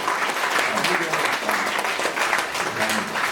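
A group applauds loudly and steadily throughout at a corporate laughter yoga session, dense clapping with voices mixed in.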